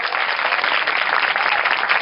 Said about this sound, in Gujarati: જોરદાર તાળીઓ આપણે નિર્ણાયક ખેલ માટે